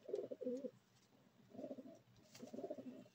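A sick pigeon with a twisted neck coos softly in three low, throaty bursts with short pauses between, faint and close by, sitting in a corner.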